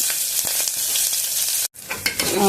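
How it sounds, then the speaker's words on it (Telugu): Sliced onions fry in oil with whole spices in a pan for coconut milk rice, making a loud, steady sizzle with stirring scrapes and a brief silent gap, with no voices. "ఉల్లిపాయలు వేగిపోయినవి"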